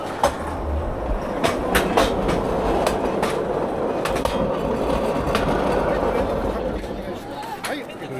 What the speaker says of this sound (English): They're bikes on a railroad line.